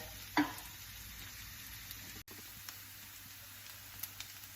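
Hash browns fry in a pan over medium heat, giving a soft, steady sizzle with a brief louder crackle near the start, then a quiet, even hiss.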